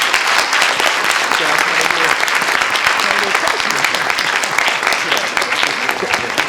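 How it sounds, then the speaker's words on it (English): Sustained audience applause fills the hall after a greenhouse and high tunnel seminar at the Academy of Natural Sciences, dense and steady clapping from many hands throughout, with no talking over it. "can we give a round of applause for our panelists?"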